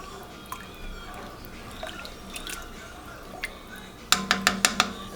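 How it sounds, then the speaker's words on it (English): Zuppa Toscana soup bubbling in a pot while a utensil stirs it, giving soft wet drips and squishes, then a quick run of sharp clanks against the pot near the end; close and fairly quiet, with no talking. "And let that get to a good simmer."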